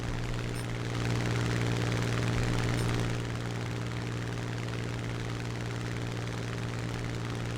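A Spitfire Mk IX propeller fighter in War Thunder drones with a steady, close engine hum that swells slightly for a few seconds before settling, with no talk over it.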